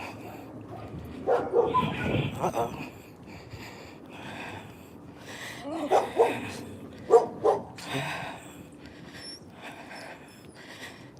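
Neighbours' dogs bark outdoors on a two-way residential street, several scattered bursts at a moderate distance, with a passing train rumbling in the background and a brief spoken exclamation.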